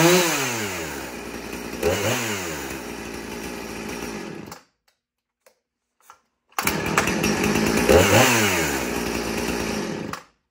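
Husqvarna 455 Rancher chainsaw running loud and close, revving and falling back in two long bursts with a silent gap between them, and no talking.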